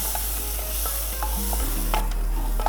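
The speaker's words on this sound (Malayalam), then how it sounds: "ഇതും ഇതിൻ്റെ റോ സ്മെല്ല് പോകുന്നവരേക്ക് നമുക്കൊന്ന് വഴറ്റണം." Ginger garlic paste sautéing in a pan for chicken bhuna masala, a steady close sizzle with repeated scraping strokes of a spoon against the pan, no talk.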